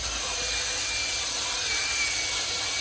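A slow-spinning rotary brush with soft bristles scrubs a stain in a car interior, giving a steady, close whirring and brushing hiss that runs without a break.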